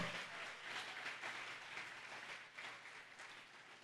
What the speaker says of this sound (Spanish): Dale un fuerte aplauso al Espíritu Santo de Dios.